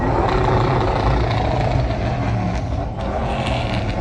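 A Ram pickup truck's engine cranks steadily without catching, a dense continuous mechanical churning with faint creaks, close and loud, with no voices.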